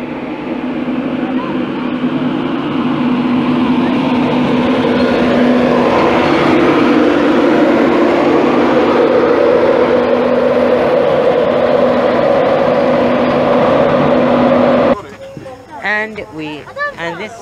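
A passenger train formed of a class 91 locomotive and a class 82 driving van passes at Peterborough, a loud sustained rumble and whine close by that cuts off sharply near the end, followed by speech.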